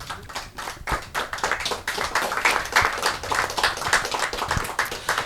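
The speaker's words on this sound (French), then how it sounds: "On peut les applaudir." Audience at a film talk with guest speakers applauding in a small room, a brisk patter of many individual hand claps, fairly close and steady for the whole stretch with no talking.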